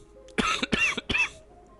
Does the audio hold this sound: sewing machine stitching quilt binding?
no